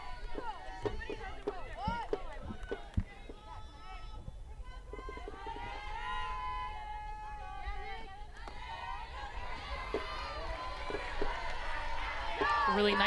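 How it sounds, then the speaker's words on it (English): Duke fans applauding and cheering in the stands at an NCAA softball game against George Mason, a steady crowd roar that swells toward the end, with a commentator talking over it. "You can hear the Duke fans applauding that"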